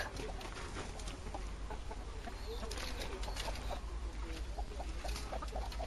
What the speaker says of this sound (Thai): นี่คือไก่ ที่เอาไว้เป็นแม่พันธุ์นะคะ